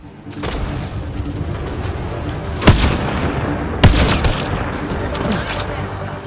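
Grenade blast and gunfire in the video game Mass Effect Andromeda: two sharp booming hits a second apart stand out over a steady roar of battle noise and shooting.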